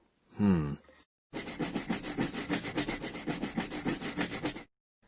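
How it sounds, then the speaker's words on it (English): A brief breathy vocal sound, then a few seconds of rhythmic back-and-forth scrubbing, close and steady, with no talking. "This is the sound of scrubbing."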